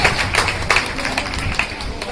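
An audience applauds at a stage event as a guest is welcomed, producing a steady patter of close, moderately loud clapping throughout.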